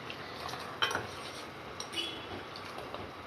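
A spoon stirs yellow toor dal in a metal pot, giving soft scraping swirls with a few sharp clinks against the rim, close and fairly quiet.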